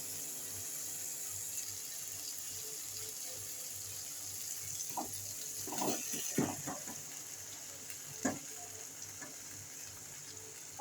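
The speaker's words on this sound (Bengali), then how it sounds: "মশলা থেকে তেল ছেড়ে দিয়েছে। এবারে তুরুল আলুগুলো আমি দিয়ে দেব।" Turul potatoes dropped into oil with cooked-down spices, a quiet steady sizzle broken by a cluster of sharp splashing crackles and spatula scrapes midway, close and unvoiced.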